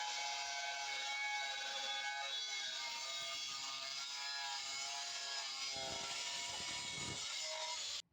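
A saw cuts through a piece of aluminium plate with a continuous rasping grind, close and steady for several seconds before stopping abruptly.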